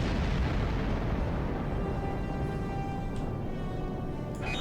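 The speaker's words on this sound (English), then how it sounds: "The dreadnought has been destroyed," A dreadnought ship exploding during a Mirror Invasion event in the video game Star Trek Online, a dense, loud rumbling blast that keeps roaring and slowly fades, with faint effects near the end.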